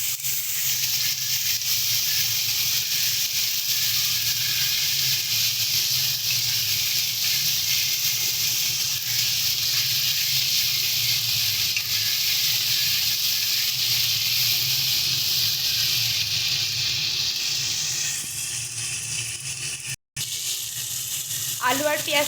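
Potatoes and onions fry in a pan with spices, a steady soft sizzle and hiss running continuously at low level.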